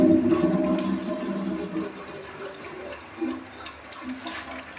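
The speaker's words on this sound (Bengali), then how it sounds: "ফ্ল্যাশ হয়।" A bathroom toilet flushed with its flush valve, a strong rushing gush of water up close that gradually tapers into gurgling and refilling.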